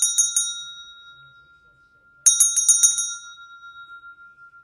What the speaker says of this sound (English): Where's the bell? Just to clear the energy on all sides.